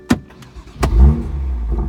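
A manual 2016 BMW M2 with an immobiliser fitted cranks and starts after unlocking, with a sharp click, a brief whine and then the engine catching into a loud, close idle rumble.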